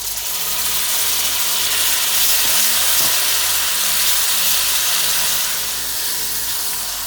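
Sauce hits fried peppers in a pan for fërgesë, setting off a loud, continuous sizzle and hiss that holds steady for several seconds with no voices over it.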